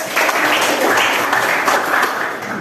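A classroom audience breaks into applause, a dense, even burst of many hands clapping together that carries on steadily for a couple of seconds.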